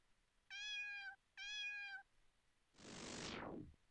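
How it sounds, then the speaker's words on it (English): Cats in the video game The Gray Garden give two short, evenly spaced meows, followed by a longer breathy hiss-like burst, all quiet and alone against silence. "The kitties!"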